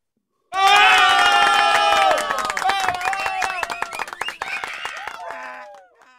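A studio audience breaks into sudden loud applause and cheering to welcome a guest, with shrill whoops and shouts over rapid clapping that gradually thins out over several seconds.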